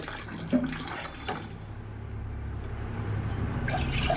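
Water runs steadily from a kitchen tap into a vessel for making tea, the gushing flow building gradually, with a couple of faint clinks early on.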